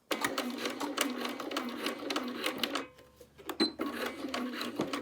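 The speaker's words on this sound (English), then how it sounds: "Just going to align that and start stitching." A sewing machine fitted with an edge stitch foot runs in steady, rapid mechanical bursts, stitching binding on a quilted jacket; it pauses briefly near the middle before resuming, loud and close.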